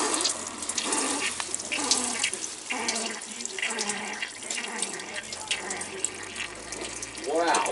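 Water gushes steadily from a garden hose during a car motor swap, a continuous broadband rush with people talking over it throughout.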